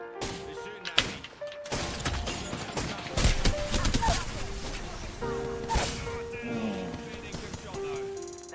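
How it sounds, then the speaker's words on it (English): Gunfire from enemies in Apex Legends, bursts of rapid shots and impacts mixed with game effects and thuds, dense and loud across the clip, with voice lines over the action. "They're shooting at me."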